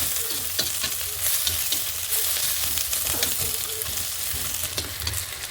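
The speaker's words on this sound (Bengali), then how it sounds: "দেখো ভাজা হয়ে গেছে প্রায়" Chopped onion frying in a pan, a steady close sizzle broken by repeated stirring scrapes and small crackling pops, continuous and fairly loud, with no talking.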